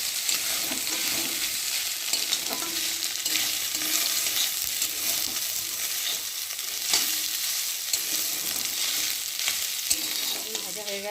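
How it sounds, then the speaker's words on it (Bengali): Soybean chunks frying in a pan give a continuous close sizzle, punctuated by occasional stirring scrapes and clinks, moderately loud with no talking. "আর এখন আমি সয়াবিনগুলো ভালো করে ভেজে নেব"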